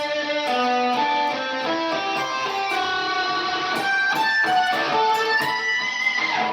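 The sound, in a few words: electric guitar through Fender Trapper octave fuzz pedal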